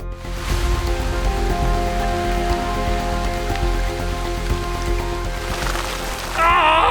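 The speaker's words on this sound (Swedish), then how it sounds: "Fy vad regnar nu!" Heavy rain drumming on surfaces and water outdoors while fishing, a dense, steady close patter that swells slightly near the end, with no voices.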